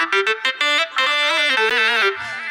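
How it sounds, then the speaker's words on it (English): A monophonic synth lead built from sampled chords plays a short, bright melodic phrase of distinct stepped notes, loud and alone. "That synth lead sound."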